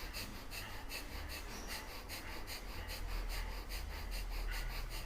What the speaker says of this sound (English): breath of fire